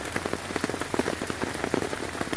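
Rain falls on a campsite with a stove and hammock, a dense, even patter of drops close by, with no voices.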